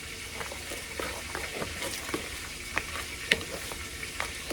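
Butter being stirred and smushed around in a frying pan while cooking, with soft scraping and sizzling that runs steadily, broken by brief sharper clicks and taps of a utensil against the pan.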